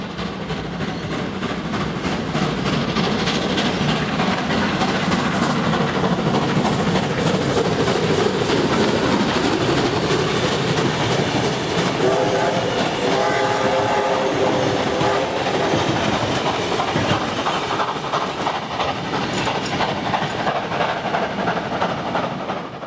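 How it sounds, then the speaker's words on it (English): Steam locomotive 3526 hauling a fully booked passenger train past Loftus station in New South Wales, a long loud continuous roar of wheels and rolling stock with a sustained whistle partway through. "we await at Loftus to see the Rail Transport Museum's 3526 heading its way to Wollongong on a fully booked out train"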